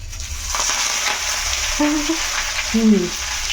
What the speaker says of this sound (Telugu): ఎండుమిర్చి ఆవాలు జీలకర్ర ఇంగువ కలిమాకు ఇవన్నీ కూడా వేయించుకుందాం ఇక్కడ ఆయిల్ పెట్టుకున్నాను వేసుకుంటున్నాను